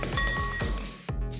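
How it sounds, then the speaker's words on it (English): Fresh ice cubes clink and rattle as they are packed into a tall 14-ounce glass, several bright knocks in quick succession, then a sharp final clatter; close and loud, no speech. "Now pack up the glass with fresh ice cubes."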